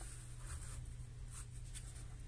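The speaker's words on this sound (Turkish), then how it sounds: "Şimdi arkadaşlar AC gerilimimizi buraya çiziyorum." Marker or chalk scraping steadily across a board while an AC voltage waveform is drawn, a continuous close scratchy stroke with faint low hum underneath.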